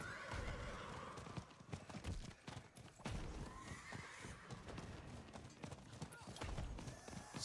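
Horse hooves clip-clop at a gallop in Diablo 4, with occasional neighs and whinnies over a steady game background, loud and continuous throughout.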